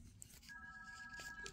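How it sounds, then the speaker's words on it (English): A phone rings faintly in a toy survival setting, one steady electronic tone sustained for about a second over quiet room noise. "Does anyone hear a phone?"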